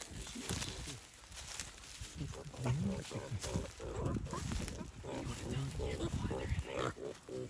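Boars in a pen, grunting and snorting in a string of irregular bursts at moderate distance, mixed with rustling and people talking nearby.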